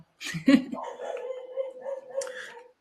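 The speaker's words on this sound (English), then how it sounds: "can you hear a dog barking right now?" A dog barks and yips a few times in the background while a person talks over it.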